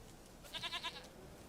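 A goat bleats in The Witcher 3, a single short, quavering bleat with a rapid pulsing tremble, heard alone at low volume.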